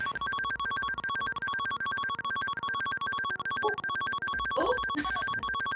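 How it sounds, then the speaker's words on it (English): A telephone rings steadily in the video game Mystery Master: Felony, its electronic bell pulsing evenly and loudly throughout, with brief voices and a short burst of noise near the end. "I don't want to answer the phone now because it's gonna play the opening"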